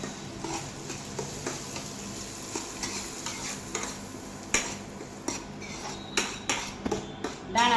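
Green corn kernels are stirred in hot oil in a pan, with a soft sizzle under quiet scraping and sharp clicks of the spoon against the pan that grow more frequent toward the end.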